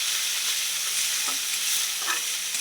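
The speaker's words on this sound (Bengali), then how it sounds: "মশলাটাকে ভালো করে কষাতে হবে" Spice masala with turmeric and salt frying in a pan, a steady bright sizzle with a few soft scrapes of stirring, close and loud with no talking.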